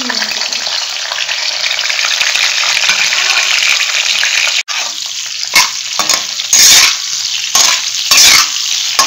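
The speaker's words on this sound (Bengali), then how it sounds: "এরপরে খুব ভালো করে ভেজে নিচ্ছি নেড়ে নেড়ে।" Bitter gourd coated in salt and turmeric fries in hot oil with a loud, steady sizzle, while a spatula stirs it in repeated scraping bursts toward the end; close and dominant, with no talk.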